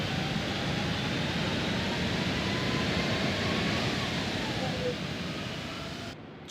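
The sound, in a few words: A330 thrust reversers in X-Plane 12 flight simulator game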